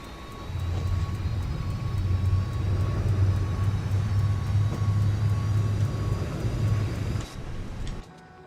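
A Jet2 A321 APU in MSFS 2024 hums as a steady low drone through pushback, running continuously before cutting off near the end.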